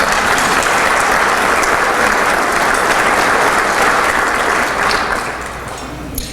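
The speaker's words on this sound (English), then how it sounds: "So if I could ask you to give a round of applause for our sponsors." An audience at a town's State of the Town event gives a round of applause for the event sponsors, loud continuous clapping from a large crowd that tapers off near the end, leaving a quieter room.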